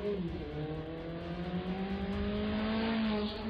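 A car engine revs and races hard along a narrow urban road with a crosswalk and parked cars, one steady loud drone rising in pitch as it accelerates, with no talk.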